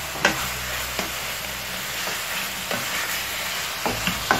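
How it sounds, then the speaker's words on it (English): Fried pepper hake fish is stirred in a pan over a continuous sizzle, with several scraping utensil strokes at irregular intervals, close and clear, no voices. "I'm just going to mix this up"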